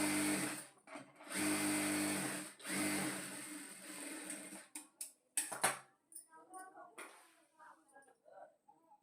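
Sewing machine stitching blouse piping in short bursts of steady whirring, near and moderately loud, broken by pauses, with quieter handling clicks and rustles afterward.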